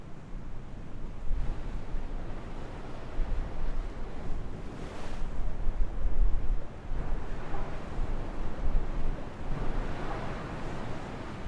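Steady wind and ocean surf captured on a Zoom H8 recorder fitted with a Rycord windjammer, a continuous broadband wash of breaking waves with gentle swells and light wind rumble, no voices.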